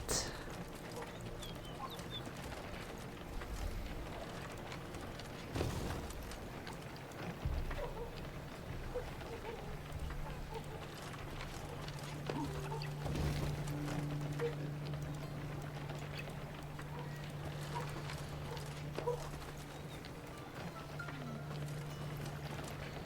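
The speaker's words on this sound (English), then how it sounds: "Thought it were bandits riding in." Horses riding in within Thronebreaker: The Witcher Tales, a soft clip-clop of hooves persisting through a long stretch of ambient game sound, with occasional low thumps and a steady hum.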